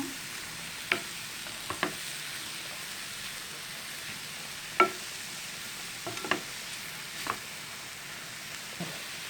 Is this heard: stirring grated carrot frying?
yes